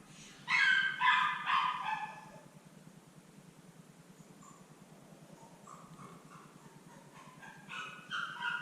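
A dog barks outside with a quick run of loud yelping barks, then quieter whimpering whines and a few more barks toward the end, heard over a low steady hum.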